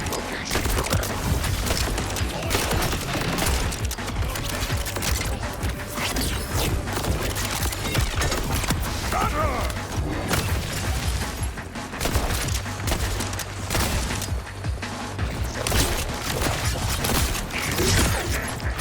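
Sustained, dense gunfire from an enemy puppet in Borderlands 4: continuous loud rattling shots with crashes and mechanical clatter, barely letting up across almost twenty seconds of frantic combat.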